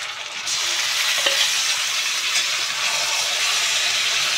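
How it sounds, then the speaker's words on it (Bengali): Marinated chicken sizzles and fries steadily in hot oil and masala, a loud continuous hiss that surges as the pieces go into the pan and stays dense throughout, with no talking. "ঠিক এই রকম মুহূর্তে আমরা যে ম্যারিনেট করা চিকেনটা ছিল সেই চিকেনটাকে আমরা দিয়ে দেব"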